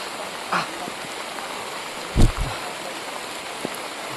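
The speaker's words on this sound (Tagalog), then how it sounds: "napakalakas na ng ulan mga tol" Heavy rain pours in a constant dense hiss, broken by a couple of brief dull thumps nearby.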